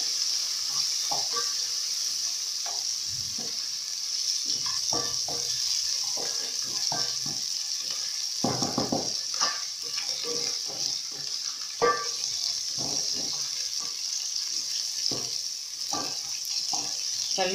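Beef frying in a pot for pilau, with steady sizzling under repeated stirring and scraping clatters against the pot, close and moderately loud, continuing throughout without talk.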